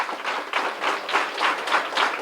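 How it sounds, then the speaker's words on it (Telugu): An audience at a school program claps together, producing a loud, continuous patter with rhythmic surges for a couple of seconds. "ఒకసారి గట్టిగా చప్పట్లతోటి వారిని అభినందించుకుందాం."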